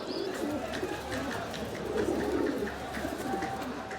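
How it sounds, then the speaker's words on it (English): Carrier pigeon cooing softly amid steady ambient background noise in Egypt, a low murmuring coo running throughout at moderate distance. "So this is a carrier pigeon, its base is here"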